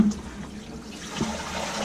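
A campervan toilet flushing, with steady rushing and trickling water close by that swells slightly midway and runs on throughout.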